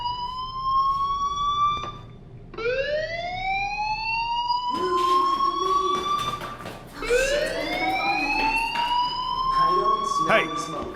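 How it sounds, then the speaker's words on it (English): A fire alarm rings inside the Life Is Strange video game, a whooping tone that sweeps upward and repeats every couple of seconds, loud and close. "do you hear that fire alarm? That means you should be outside."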